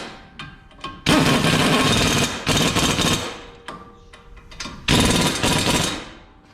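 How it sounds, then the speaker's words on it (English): A power socket tool runs down bolts on the front brakes of a 2020 Ram 3500, loud close rattling bursts of a second or so that start and stop, with brief short clicks between them. "now I need my socket, and I'm gonna run it down"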